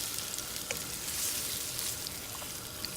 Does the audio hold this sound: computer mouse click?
no